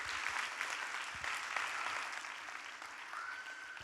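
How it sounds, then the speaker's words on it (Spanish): Church congregation applauding during a Spanish-language service, a sustained wash of clapping that is soft and somewhat distant, holding steady before slightly tapering, with no speech over it. "Dale un fuerte aplauso a nuestro Dios."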